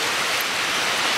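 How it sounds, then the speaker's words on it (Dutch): Heavy rain pours down on a New York City street near Central Park, making a steady, loud, unbroken hiss of falling water with no voices. "Het regent echt zo hard."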